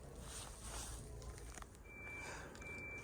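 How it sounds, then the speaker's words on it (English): A faint, steady electronic reversing buzzer on a Carado Emotion I447 motorhome sounds in short repeated beeps over a low vehicle hum. "you've got a rear reversing buzzer on this vehicle"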